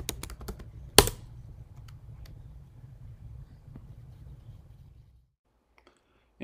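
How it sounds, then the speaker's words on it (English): Fingers typing an npm install command on a computer keyboard, with a quick cluster of crisp keystrokes and one sharp clack near the start, then sparse taps tapering into near silence. "I'm going to do this by typing in npm install."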